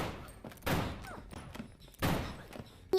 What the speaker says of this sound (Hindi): वो बेन को भी गोली मारकर उसे जख्मी करके अपने बेटे को लेकर यहाँ से निकल जाती है